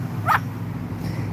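A pet dog gives a single short bark at a passing motorcycle on a sunny patio, sharp and fairly close over a steady low outdoor hum, then quiet.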